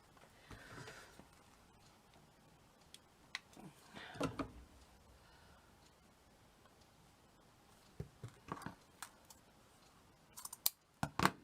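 Scissors trim material on a handmade Christmas bauble in a quiet room, with a handful of soft, separate snips spread out and a quick cluster of sharper cuts near the end.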